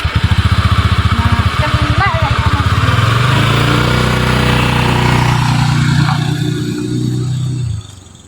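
A borrowed motorcycle's engine runs close by, first with a rapid idle chug, then revving into a steady, loud drone for several seconds before cutting off sharply. A voice speaks briefly over it.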